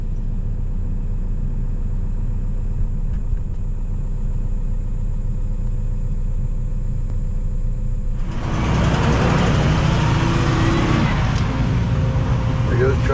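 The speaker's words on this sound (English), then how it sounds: "There goes truck number 4." Dump truck hauling red Georgia clay pulls out of a job site, a low engine rumble that swells into a louder, rougher roar of acceleration partway through, heard close with steady background noise.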